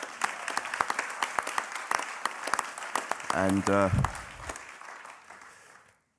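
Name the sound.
audience applause for City Roads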